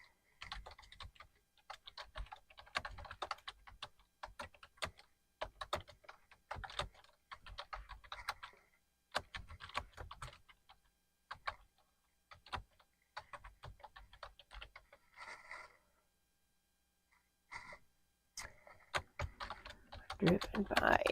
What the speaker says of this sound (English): got some severe typing issues here